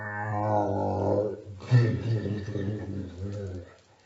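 A voice imitates an old elevator's low, rumbling shaking noise as it stops, groaning and rattling with a growly, vibrating tone.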